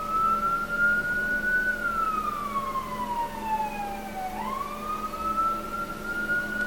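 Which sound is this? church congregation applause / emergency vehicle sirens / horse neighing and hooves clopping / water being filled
emergency vehicle sirens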